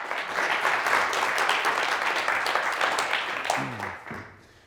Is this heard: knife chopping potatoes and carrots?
no